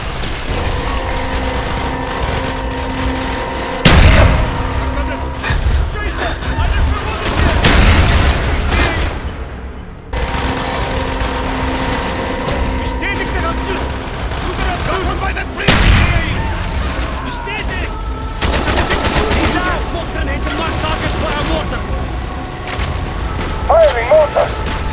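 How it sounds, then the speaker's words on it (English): Mortar blasts and gunfire from the Call of Duty Black Ops video game, with heavy booming explosions and rattling volleys that are loud and continuous, and game voices shouting over the battle. "Firing mortar!"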